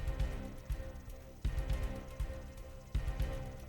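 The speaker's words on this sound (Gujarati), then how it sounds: "ઈડર શહેર સહિતના ગ્રામ્ય પંથકમાં ધોધમાર વરસાદ પડ્યો છે." Steady unseasonal downpour in Idar, Gujarat, with a dense, continuous patter punctuated by a few louder splashes; no voices are present.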